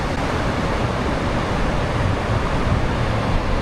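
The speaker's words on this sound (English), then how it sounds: "Just take a second though to absorb the beautiful sounds and the sunsets out here on the coast of California." Ocean surf breaks on the California coast at Pismo Beach, a steady broad wash of waves with no pauses, fairly loud and close, with no voices.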